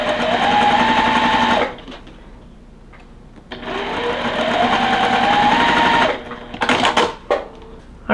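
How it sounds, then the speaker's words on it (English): A sewing machine runs steadily while stitching quilt blocks, two long whirring runs with a rising pitch separated by a quiet pause, ending in short stop-and-start bursts. "We're gonna sew the A's and the E's together first."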